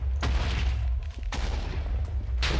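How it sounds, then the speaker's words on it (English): Explosions in the Minecraft modpack Agrarian Skies, video game: three sharp booming blasts spaced about a second apart, each with a rumbling tail, loud and alone. "Is that all the explosions that you're causing?"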